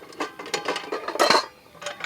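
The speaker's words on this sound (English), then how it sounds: "here's my cook set. I'll pull this out. This is all stainless steel." Stainless steel camping cook pots and pans clink and clatter as they are handled, a few close, light metallic knocks in quick irregular succession.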